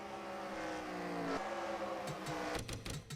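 Stock cars race in a video game, engines roaring loud and continuous with rising and falling pitch as they accelerate and shift, then several cars whoosh past in quick succession near the end.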